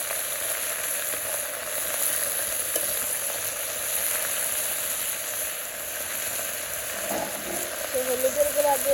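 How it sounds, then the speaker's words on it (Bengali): Leafy greens sautéing in a pan with salt, turmeric and chili powder: a steady, even sizzle with faint stirring scrapes near the end. Someone speaks softly over it. "আমি শাকটা কষাইতে থাকি ভালো করে"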